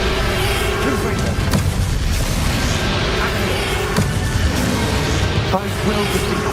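A Confringo spell explosion in a Harry Potter video game: dense, loud rumbling booms with several sharp blast hits run throughout, mixed with game voices.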